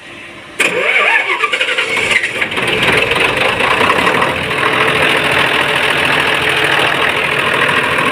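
A 6D24 diesel engine with a weak battery turns over briefly, then catches with a sudden loud roar, runs rough for a moment and settles into a heavy, steady, close idle.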